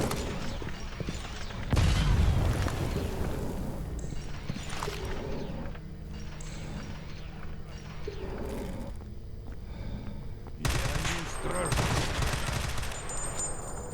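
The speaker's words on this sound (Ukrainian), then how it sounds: "Гранати теж підуть у хід." Grenades explode during combat in the video game S.T.A.L.K.E.R. Anomaly. Sharp, loud blasts ring out at intervals amid rapid gunfire and other battle noise.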